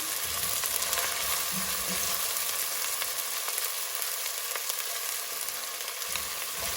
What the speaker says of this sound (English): we're going to saute this mixture until the aromatics of each of these ingredients releases its flavor